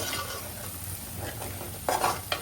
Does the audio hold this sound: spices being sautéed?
yes